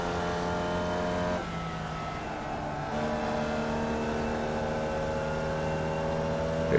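Race car engines in a racing video game at Laguna, a sustained high-pitched engine drone that shifts pitch with gear changes, steady and close with no voices.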